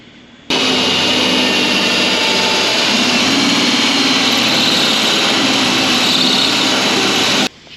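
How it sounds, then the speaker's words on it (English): A hole saw cuts through a car hood on a budget drag-race build, a loud, steady high-pitched grinding whine that starts abruptly, holds for about seven seconds without talk, then stops. "So this hole saw is pretty much done."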